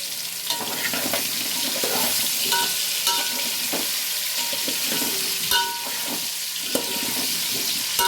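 Onion, tomato and ginger-garlic paste fry in a pan, a soft continuous sizzle broken by scraping stirs and small clinks of the spoon against the pan, close and without talk.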